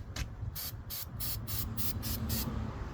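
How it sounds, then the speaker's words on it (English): A spray bottle squirts liquid in a quick run of about eight short, sharp hissing bursts, close and fairly steady, over faint background hum. "I'm going to spray to the side first just to make sure."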